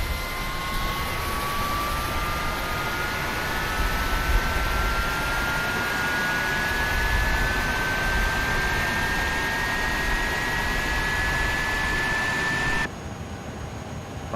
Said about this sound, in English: So we're going to go to engine A, and let's start with engine number 2.